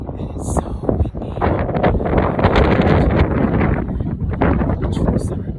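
Strong wind in Cape Town buffets the microphone with a steady, loud rushing roar that rises and falls in gusts throughout, with faint rustling underneath.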